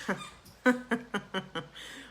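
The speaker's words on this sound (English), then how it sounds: "This is when she decides she wants to play with her squeakiest toy in the entire universe." A dog's squeaky toy squeaked repeatedly, about six sharp, rhythmic squeaks in a little over two seconds, close and fairly loud, with faint breathing between them.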